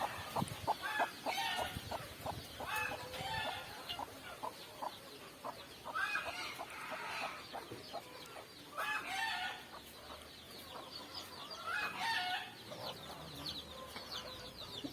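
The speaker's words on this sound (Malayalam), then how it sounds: "ഇതൊരു ചെറിയ കോഴിയാണ്" Hens cluck repeatedly in short bursts, close by, with other fowl calling and a faint crow mixed into the farmyard chatter.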